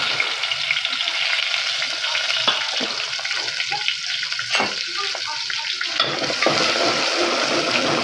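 Chopped onions hitting hot oil in a pot, a loud continuous frying hiss and crackle with occasional stirring clatter throughout.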